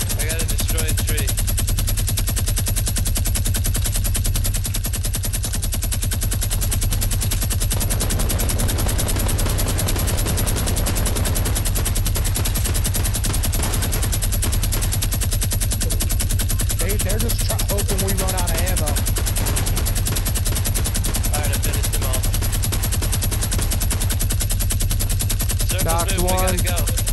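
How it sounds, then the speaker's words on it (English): A minigun firing in Fortnite Battle Royale squads, a continuous loud mechanical roar of rapid fire that runs unbroken for nearly half a minute, with voices talking faintly underneath. "I knocked the second to last one with the minigun"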